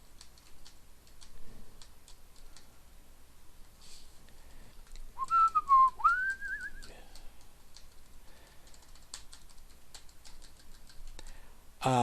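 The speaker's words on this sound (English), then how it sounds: "I will try not to whistle like that." A person whistles a short two-part sliding tune, quiet and a little rough, over faint ticking and clicking background sounds with no talking.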